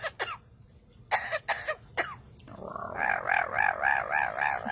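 A pet parrot mimics coughing, producing several short, rough, bursty coughs, followed by a wavering, warbling vocal sound. It is close and moderately quiet, with no talking.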